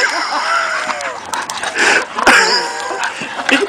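A dog yelps and whines in short, excited bursts with a few sharp barks, fairly close and loud, against some background noise.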